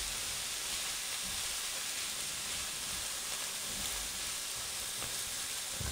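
Corn frying with bacon gives a steady, close sizzle and hiss as black pepper is stirred in. No one speaks.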